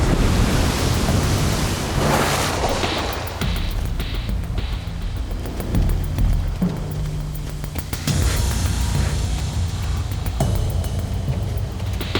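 High-tide waves washing onto a Tasmanian shore, a loud, dense roar of surf mixed with gusty wind buffeting the microphone, with swells rising and falling over twelve seconds and no voices.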